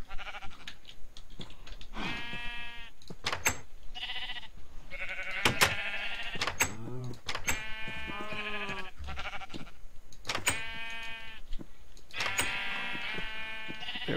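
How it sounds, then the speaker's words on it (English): Sheep in the Agrarian Skies video game bleat repeatedly, several wavering calls spread across the stretch, with light clicks and taps between them and no talking. "the sheep are in here"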